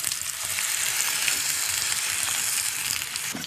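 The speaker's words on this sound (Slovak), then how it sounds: "Na rozohratú panvicu pridáme olej a pridáme aj zemiaky nakrájané" Thinly sliced potatoes fry in oil in a preheated pan, producing a loud, continuous close sizzle with fine crackling and occasional sharper pops.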